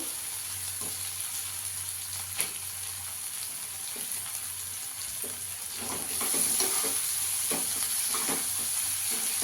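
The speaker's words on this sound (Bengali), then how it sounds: "বাটারটা দিয়েও ভালো করে একটু কষিয়ে নেব" Coriander leaves and butter fry in a pan for a masala egg omelette, a steady broadband sizzle with scattered stirring scrapes that grows louder and busier about two-thirds of the way through.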